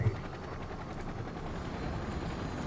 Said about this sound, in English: You're meant to use your choppers like this.